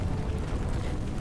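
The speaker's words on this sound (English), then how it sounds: "Violent explosions and fire erupt one after another to create an intense symphony." Explosions and erupting fire in the video game Love and Deepspace make a dense, continuous low rumble with faint crackling bursts on top, sustained and fairly quiet, with no talking.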